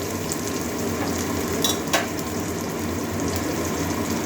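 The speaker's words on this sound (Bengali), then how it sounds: "পেঁয়াজটা ভাজা ভাজা করে নেবো একটু" Steady frying sizzle from chopped onions in oil in a pan, a broad constant crackle with a couple of brief louder stirring scrapes midway.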